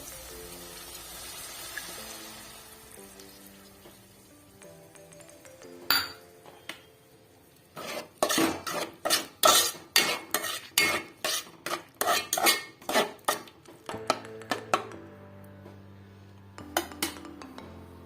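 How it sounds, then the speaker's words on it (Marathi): A metal spoon clinks and scrapes repeatedly against a pan as Schezwan fried rice masala is stirred into rice, a quick run of sharp clanks after a quieter stretch, with no talk. "हे जे मिश्रण बनवलं होतं शेजन फ्राईड राईस मसाल्याचं ते आपण याच्यामध्ये ऍड करतोय"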